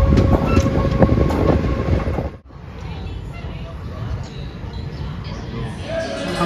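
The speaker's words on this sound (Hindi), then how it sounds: "हमारी ट्रेन ने अपना टाइम रिकवर कर लिया है और यहाँ अब 13 मिनट की देरी से अजमेर जंक्शन पहुंच गई है" A passenger train rolls on the rails toward Ajmer Junction, its steady rumble and wheel noise loud and close throughout, briefly dipping about a third of the way in before resuming, with people talking over it.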